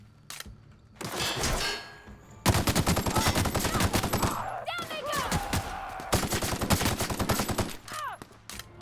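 Gunfire in The Outer Worlds, loud rapid bursts of automatic shots in long rattling strings with brief pauses between them and a few clanging mechanical sounds, while a voice talks briefly.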